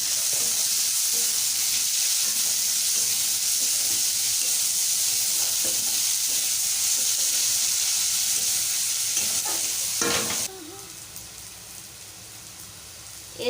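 Fish curry ingredients sizzle and fry in a little oil for Bengali tangra fish curry, a steady, loud crackling hiss that drops sharply to a quieter simmer near the end.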